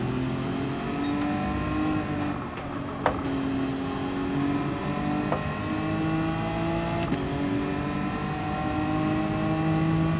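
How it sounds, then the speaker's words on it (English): Lamborghini race car in Gran Turismo 7, a steady high engine whine with layered harmonics holding near constant as cars run on track, with brief clicks and no talk. "Oh, there goes the Lambo."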